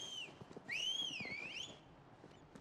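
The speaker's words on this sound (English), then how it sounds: "I can whistle, too." A single rising and falling whistle in the Final Fantasy XVI game, a clear melodic tone that swoops up and down over faint background ambience, with no talk.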